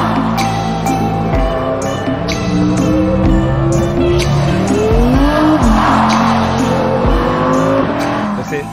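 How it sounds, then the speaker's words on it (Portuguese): Audi R8 sports car driven hard, its engine revving up and down through gear changes with rising and falling pitch, loud and close, with tires squealing briefly. "Eu estou pilotando um carro."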